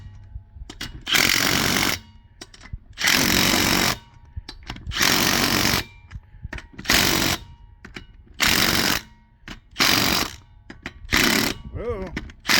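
A power tool hammers lug nuts tight on a 2005 Nissan Altima wheel, sounding as six loud, evenly spaced rattling bursts about a second long, each separated by short pauses.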